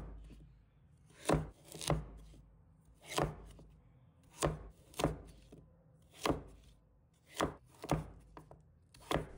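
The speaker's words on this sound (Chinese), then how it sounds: "然后切成小段" A knife chops taro into small pieces on a cutting board, with about twelve sharp, close knocks in an uneven rhythm and brief gaps between strokes.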